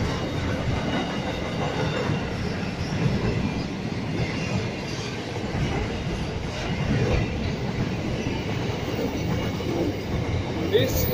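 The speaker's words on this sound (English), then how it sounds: "It's a great train." A train rolls through a station at Wondabyne in Australia with a steady loud rumble of wheels on rails and faint clicking and squeal, continuous for about eleven seconds.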